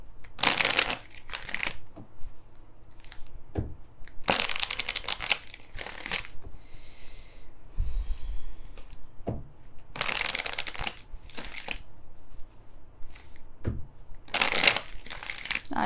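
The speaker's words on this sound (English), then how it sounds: "I shuffle." Tarot cards are shuffled by hand in repeated bursts of riffling and rustling, close and fairly loud, with quiet gaps between them.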